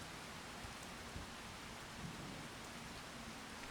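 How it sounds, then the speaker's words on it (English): Steady in-game rain patters across a farm in the video game Farming Simulator 25, a soft, even hiss of falling drops that stays quiet and unbroken. "It sounds like rain, but it doesn't look like rain."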